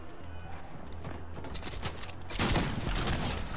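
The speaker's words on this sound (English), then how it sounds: "Let's show them what the shotgun can do." A lever-action shotgun fires in a video game, a few sharp blasts with a heavy burst near the end, close and loud over game ambience.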